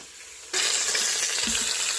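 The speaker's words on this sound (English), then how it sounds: "You can hear that lamb in there sizzling away." Lamb shanks sizzling in a pressure air fryer, a quiet hum giving way to a sudden, loud, steady crackling sizzle that continues to the end.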